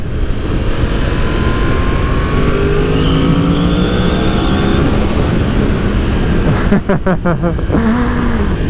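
A 2020 Yamaha R1 sportbike engine revs steadily under loud wind roar, with quick-shifter upshifts cutting in near the end as short rapid stutters before the pitch drops, heard from the rider's position.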